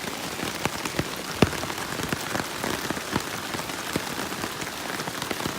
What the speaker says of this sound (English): there's rain coming, so let's try and get the tarp set up before it rains